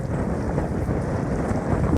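Strong wind at a lake roars and buffets steadily across the microphone, a loud continuous rumbling rush with no pauses.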